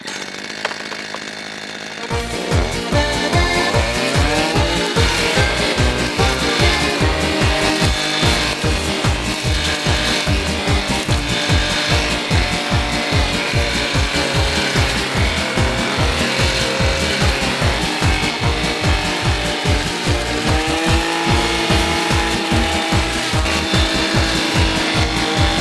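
A STIHL brush cutter mows grass and undergrowth, its loud two-stroke engine starting after a brief quiet moment and then running steadily with a fast, rhythmic pulsing whine close by.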